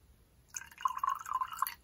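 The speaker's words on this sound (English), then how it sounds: "I'm going to add some water to this," Water poured into a glass of makgeolli to dilute it roughly one to one, a short trickling, splashing pour that starts abruptly, runs for about a second and a half and stops.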